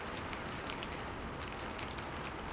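Rain falls as a dense, even hiss with scattered drop patter, steady and moderately loud with no voices.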